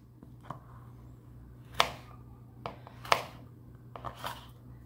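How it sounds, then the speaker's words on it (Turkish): A knife chops zucchini and capia pepper on a board, sharp, close taps spaced irregularly, some louder than others, over a low steady hum with no talking. "Kabaklarımızı da bu şekilde doğruyoruz"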